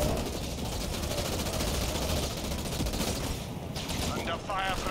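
Sustained gunfire from ground troops in the real-time strategy game Halo Wars 2, a dense, continuous rattle of rapid shots and battle noise at steady loudness, with a voice briefly heard near the end.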